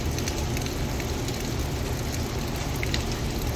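Steady rain falling outdoors, a dense, continuous hiss with scattered drop patters, loud and unbroken with no voices.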